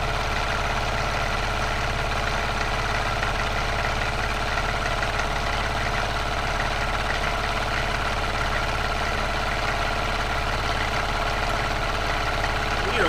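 A milling machine cuts metal with a Harbor Freight end mill at a raised speed while clearing chips, giving a steady, dense grinding whine with a constant drone that runs unbroken and fairly loud throughout.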